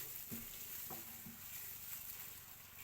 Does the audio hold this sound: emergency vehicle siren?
no